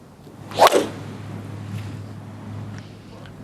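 Dustin Johnson strikes a tee shot with a driver at the 2021 Saudi International, one sharp crack followed by open outdoor wind and faint crowd ambience.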